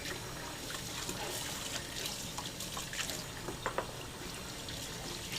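Running water, a continuous close trickling and splashing wash with scattered drip-like spatters and no voices.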